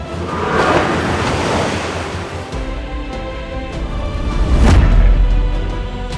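Strong gusting wind roars steadily over a rough, stormy wash of noise that swells louder toward the end.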